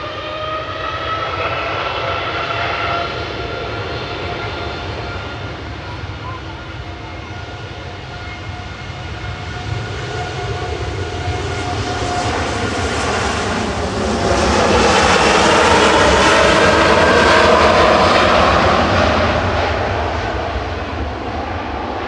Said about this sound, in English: Air Canada departing now back to Toronto with flight 909.